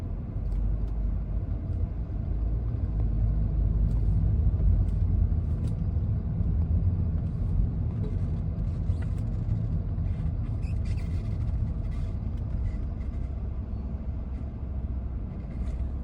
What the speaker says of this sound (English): we are stuck in the traffic again